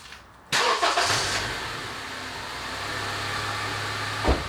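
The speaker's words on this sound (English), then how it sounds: "So now let me turn on the car engine" A car engine cranks and catches abruptly, surges briefly, then settles into a steady, low idle that keeps running, with a small bump near the end.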